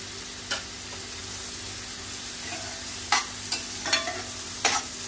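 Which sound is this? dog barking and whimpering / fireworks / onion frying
onion frying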